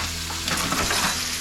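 Mutton snapper fillets fry steadily in a hot pan, a continuous close sizzle and crackle with no talking.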